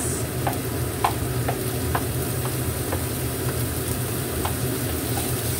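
Onion, garlic and ginger sauté in a pan with a steady, close sizzle and scattered light clicks of a stirring utensil, no voices over it.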